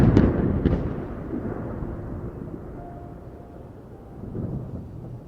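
Rolling thunder heard as a sound effect in a horror tale, a loud crack at the start easing into a long, heavy low rumble that swells again near the end, with no voices.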